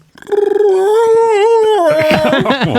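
A man imitates a Bigfoot howl with his voice, a loud, drawn-out wavering wail that rises and falls and breaks into rougher yelps near the end, close to the microphone.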